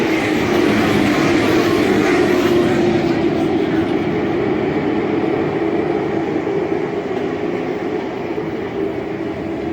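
Race cars roar around a short track under green flag racing late in a Thanksgiving Classic at Southern National Motorsports Park, a dense continuous engine roar that stays loud and slowly fades slightly toward the end, with an announcer's voice under it.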